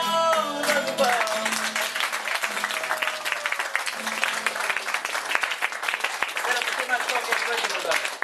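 A crowd claps warmly for a couple's 50th wedding anniversary, a dense, continuous applause that fills the clip after a voice speaks briefly at the start.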